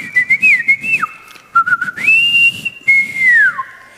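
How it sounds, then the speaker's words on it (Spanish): A shepherd whistles a loud, clear signal call, sliding between high and low pitches in a few sustained, swooping phrases with short breaks. "tengo que tener un silbido"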